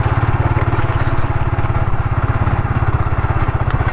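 Farm motorcycles ride along a quiet rural road beside a railway line, giving a close, steady, rapid throbbing engine putter with no voices.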